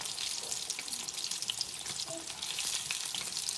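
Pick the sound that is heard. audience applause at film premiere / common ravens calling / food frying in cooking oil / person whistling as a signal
food frying in cooking oil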